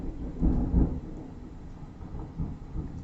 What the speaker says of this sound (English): Oh, there was just thunder going real loud.